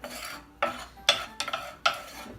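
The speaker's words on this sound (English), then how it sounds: "we're just going to let this ghee melt here" Ghee melts in a pan for Irish bangers, with soft sizzling broken by several short scraping and stirring bursts as a utensil moves across the pan.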